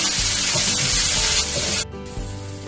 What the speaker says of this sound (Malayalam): ഇതൊരു മിനിറ്റ് നമുക്കൊന്ന് ജസ്റ്റ് ഒന്ന് വഴറ്റണം